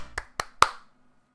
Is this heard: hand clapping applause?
yes